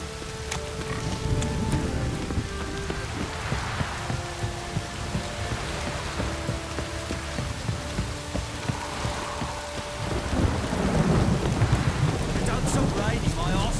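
A thunderous rainstorm in Witcher 3 pours down steadily, thick rain hiss with deep rumbling thunder swelling louder near the end, joined by scattered tonal game sounds and no talking.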